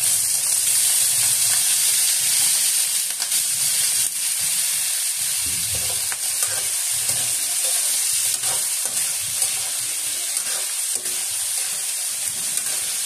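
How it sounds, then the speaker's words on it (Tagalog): Carrots and potatoes sauté in a hot pan, a steady loud sizzle and hiss running throughout with faint scraping stirs underneath, close and alone without talk. "gisa po muna natin yung ating carrots at saka yung ating patatas mga kaguro"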